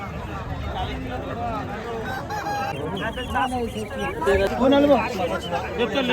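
Chickens and ducks at a busy village market, with clucks and a brief crowing call rising through constant crowd chatter and people talking nearby.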